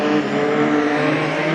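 Modified sedans race at Gympie Speedway, engines roaring loud and continuous as the pack laps the track, a steady dense drone with no break.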